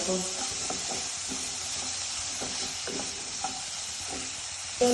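Chopped tomatoes and spices stirred and fried in a pan for Maggi masala rice, a steady sizzle with repeated scraping stir strokes running throughout, close and continuous with no talking.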